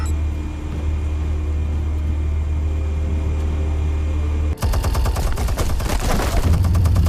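Gunfire and explosions in Batman: The Telltale Series: a steady low rumble of ambience gives way at once to a loud, dense burst of rapid gunshots and blasts with no voices.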